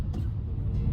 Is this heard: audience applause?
no